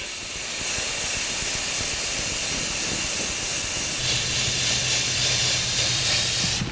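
Primer sprayed from a spray gun onto an interior door panel for a 1949 Chevrolet gasser, a continuous hiss that grows louder and brighter partway through, with no voices.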